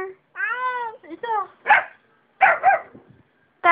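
A dog gives a few close, drawn-out whining yelps followed by short, sharp barks, with brief silences in between.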